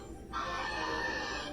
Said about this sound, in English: A screaming seagull.